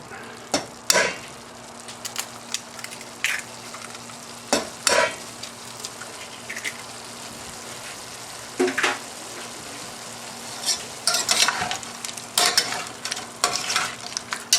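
Eggs fry with lobster in a pan under a low steady sizzle, punctuated by sharp scrapes and clacks of a utensil stirring and pushing the mixture around in irregular bursts; no voices.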